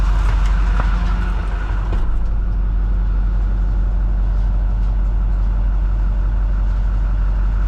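A plow truck engine runs at a steady idle, a continuous low rumble with a brief clatter early on, close by on a winter day.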